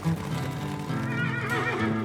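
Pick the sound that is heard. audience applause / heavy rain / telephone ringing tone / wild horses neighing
wild horses neighing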